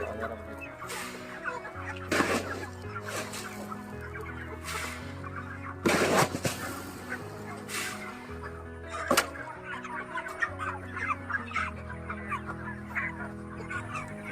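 Broiler chickens near catching age cluck and chatter in a crowded farm shed, a dense chorus of many birds close by with a few louder bursts.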